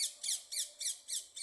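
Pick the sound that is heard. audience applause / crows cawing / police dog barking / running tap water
crows cawing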